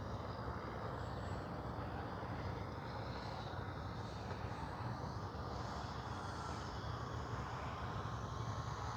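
An airplane drones overhead while flying with landing flaps out, a steady distant-to-moderate engine rumble with a slight rise and fall, continuous and without talk.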